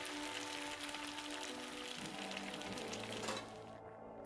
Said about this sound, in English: Something sizzles in a pot.